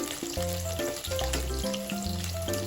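Pork pieces frying in a pan for sweet and sour pork, turned over as they brown: a loud, steady sizzle up close, with tonal music running underneath.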